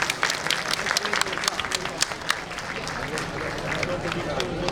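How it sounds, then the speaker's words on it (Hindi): An audience at a Teachers Day event in Kotdwar, Uttarakhand claps steadily for teachers in an unbroken wave of mid-distance applause, with some crowd noise mixed in. "मैं एक बार सभी शिक्षकों के लिए आपसे तालियों की गुजारिश जरूर करूँगा।"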